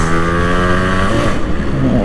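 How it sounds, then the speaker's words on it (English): A Yamaha RX135 two-stroke motorcycle revs up close and loud, its engine note climbing steadily in pitch before dipping and rising again as it pulls away, heard alone without talk. "I hope you guys can hear the noise of this bike"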